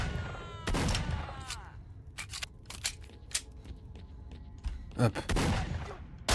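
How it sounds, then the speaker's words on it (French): Gunfire in the video game Stalker cracks out in sharp, scattered shots and short volleys, with a brief spoken exclamation. "Putain, c'est que les balles ça part."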